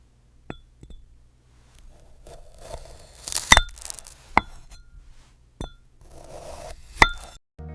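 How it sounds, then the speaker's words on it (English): Sharp glassy clinks and cracks ring out a few at a time amid quieter scraping and crunching, as a knife cuts through glass-like fruit in close, crisp detail. "I created this glass fruit cutting video using AI in just 10 seconds"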